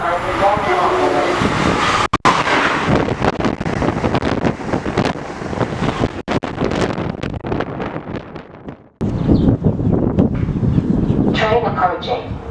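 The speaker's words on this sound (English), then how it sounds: "Train approaching. Please remain behind the yellow line." A train pulls into Old Saybrook Station on a windy day, its loud rumble and rush mixed with heavy wind buffeting the microphone, with a short drop out before the noise resumes.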